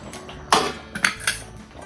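A few sharp metallic clanks and scrapes of a pot of sambar being lifted off the stove and set down, close by, with short pauses between.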